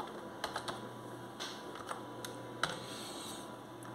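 Quick light keystrokes on a computer keyboard typing into the Windows 7 search box, a few scattered taps over a steady background hiss.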